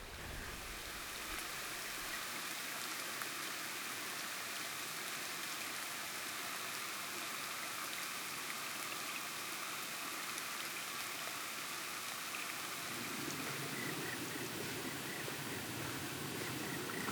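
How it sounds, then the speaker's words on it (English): Light rain falling on a sheltering tree in the Alps, a soft continuous hiss of drops on leaves, even and steady throughout, with a slightly fuller wash toward the end. "at the moment it's just raining a bit"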